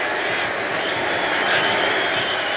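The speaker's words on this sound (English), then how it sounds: "the New England fans here cheering Tom Brady" New England Patriots fans cheering Tom Brady inside a stadium at a 2016 football game against the Browns, a dense, loud crowd roar that holds steady throughout.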